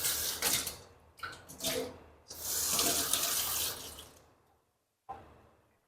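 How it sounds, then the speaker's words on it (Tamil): Water splashes and pours in several bursts, likely from a cup being emptied in a small room in Abu Dhabi, with brief pauses between pours and a final short splash after a moment of quiet. "ஏதாவது ஒரு கப்பில் தண்ணி எடுத்து ஊற்றுவோம்."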